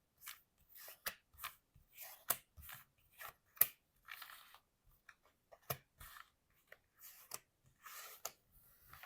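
Crisp, rhythmic riffling and tapping as a deck of 72 oracle cards is shuffled by hand, quiet close bursts repeating at an even pace with no talk.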